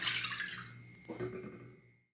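Water pours into a thick aluminium pan already holding orange and lemon zest, a steady splashing stream that fades toward the end and then stops.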